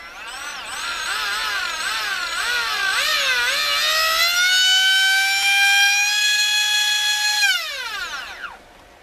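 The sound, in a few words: Leopard 4082 2000KV brushless motor spinning up after rebuild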